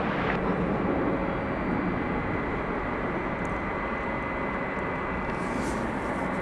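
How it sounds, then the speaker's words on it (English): A Boeing 757 airliner passes at night at DFW Airport, producing a loud, steady broadband jet roar that holds evenly from start to finish with no voices. "Here comes the 757 we saw landing a few minutes ago."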